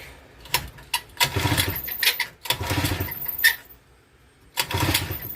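A Tecumseh boat motor needing carburetor work is pulled over repeatedly, giving bursts of rattling, sputtering engine noise separated by short pauses, close and moderately loud.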